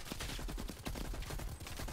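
Rapid automatic gunfire from Call of Duty: Black Ops Cold War played in split-screen, a dense, continuous burst of loud shots with no pause.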